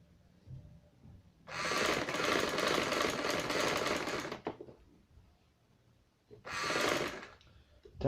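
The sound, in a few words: sewing machine stitching a bridal maxi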